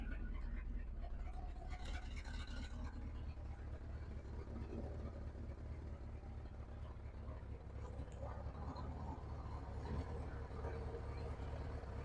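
A 1975 Dodge W200 truck with about 10,000 original miles idles roughly and unevenly near at hand, a steady low engine rumble running throughout with some faint background voices.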